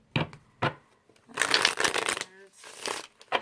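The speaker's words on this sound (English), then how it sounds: "you guys can see the side shuffling, not so much because it's like paper cardboard, but it's really thick" A thick cardboard Grand Etteilla tarot deck is shuffled in a few quick, papery riffling bursts, close and fairly soft, with a brief voice sound partway through.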